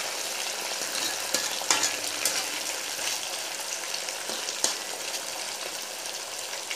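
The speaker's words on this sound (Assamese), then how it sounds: "এই পিঁয়াজ ভজা তেলখিনিতে মই মাংসখিনি ফ্ৰাই কৰিছোঁ অলপ।" Duck meat fries in oil left from frying onions, giving a loud, continuous close-up sizzle with occasional sharp pops and scraping stirs in the pan.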